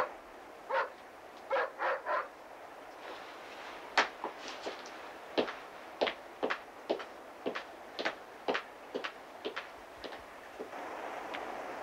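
A dog barks repeatedly in short bursts of sharp, mid-distance barks, spaced irregularly over a quiet background, with a few yips between them.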